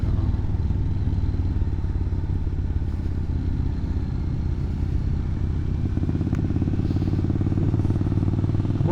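A 2020 KTM 890 R motorcycle engine idles with a steady low rumble and fast even pulsing, close and continuous throughout, with no talk.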